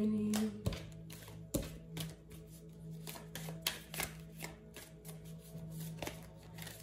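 Tarot cards being shuffled and pulled from the deck, close and fairly quiet, with repeated riffling and snapping card sounds in uneven bursts and no talk.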